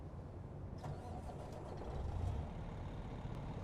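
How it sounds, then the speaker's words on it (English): A truck engine cranks and settles into a low, steady idle in the American Truck Simulator game, with a rumbling drone and a faint hiss of air, heard alone at a quiet level. "Let's start the truck up."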